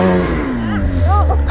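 Snowmobile engine surges as the throttle is given, a close, steady rising rev with a voice talking over it.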